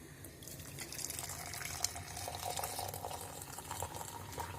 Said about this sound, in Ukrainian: Наливаємо баночки.